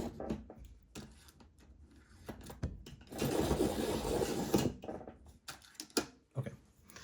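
A pencil is ground in a sharpener in one sustained burst of dense grinding about a second and a half long, preceded and followed by short scraping and handling noises up close.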